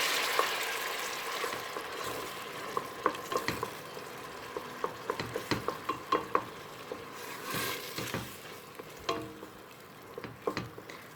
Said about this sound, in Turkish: Salçamızı da ilave ediyorum. Ve birlikte bir süre kavuralım.